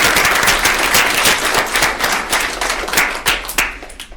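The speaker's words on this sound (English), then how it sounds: "So please give them a big round of applause" Loud, close applause from a meeting audience honoring conference presenters, dense clapping with sharp individual claps standing out, sustained steadily for about four seconds before thinning toward the end.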